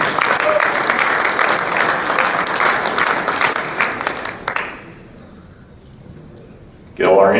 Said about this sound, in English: Let's give Brevin a nice round of applause.